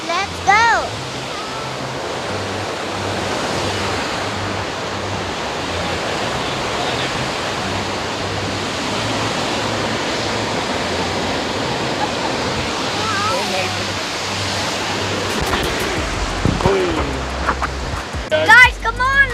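Steady, powerful roar of the Rhine Falls in Switzerland, Europe's largest waterfall, filling the whole clip as a dense close wash of rushing water, with faint voices surfacing briefly near the start and end.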